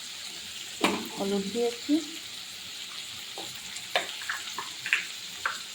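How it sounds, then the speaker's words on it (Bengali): Dried fish with potato and tomato lightly frying in a pan, a soft steady sizzle with a few stirring scrapes while someone speaks briefly. "আলুটা টমেটোটা শুটকিটা হালকা করে ভেজে নেব"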